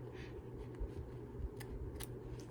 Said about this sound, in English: once you get your scissors in there, then you're just going to kind of glide around